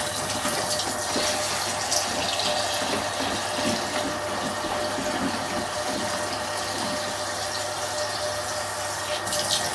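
Very cold water pours steadily from a kitchen tap during home beer brewing, a continuous close broadband rush with no pauses and no voices.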